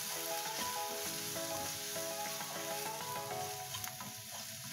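Black pepper powder and garam masala sautéing in a pan for pepper chicken, a steady close sizzle and fry with soft stirring scrapes running throughout, no voices.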